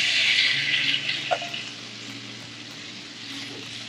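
Potatoes sizzling in hot butter in a pan, a loud bright hiss just after they go in that eases into a softer, steady frying crackle with faint clinks.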